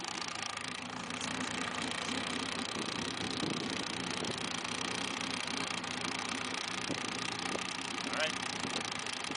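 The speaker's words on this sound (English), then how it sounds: "I'm going to bump the starter, and we're running." An MGA sports car engine runs steadily at idle in a dense, continuous drone, loud and close throughout with faint background voices under it.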